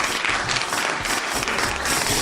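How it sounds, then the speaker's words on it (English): Dense, steady clapping and cheering for a podcast's 100th episode, loud and close throughout the short stretch with no break. "Give me the cheers. Give me the cheers. Give me the claps. Give me all of the applause."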